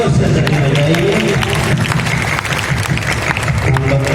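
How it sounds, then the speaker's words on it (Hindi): Audience applause at a 2019 golden jubilee felicitation, a steady dense wash of clapping from a crowd lasting the whole stretch, fairly loud and close with a murmur of voices underneath. "जोर से ताली बजाइए।"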